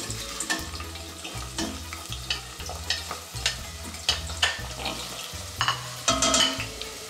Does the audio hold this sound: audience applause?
no